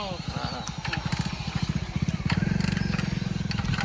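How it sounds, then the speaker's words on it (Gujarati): A motorcycle that will not start sputters and chugs in quick, even pulses that grow a little stronger without catching, mixed with voices nearby. "બાઈક નહીં ચાલુ થતું યાર શું કરું"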